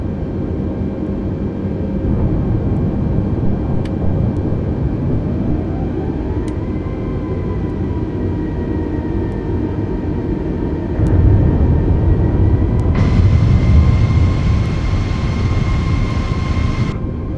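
A jet airliner in Microsoft Flight Simulator 2020 starts its takeoff roll on runway 28, with a loud, steady engine roar whose whine climbs in pitch as power builds, then a heavier rumble and higher whine as it accelerates.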